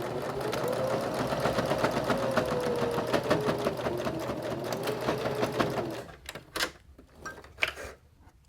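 A sewing machine stitching a chapstick keychain holder, with a fast steady mechanical whir and rhythmic needle clatter for several seconds, then stopping into scattered clicks and fabric handling.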